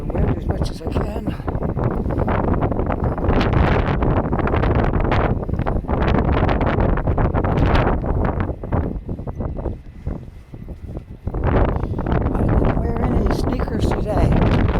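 Heavy wind buffeting a handheld microphone outdoors during a nor'easter snowstorm in Halifax, a loud, constant roaring rumble that barely lets up across the whole stretch, with a voice speaking beneath it.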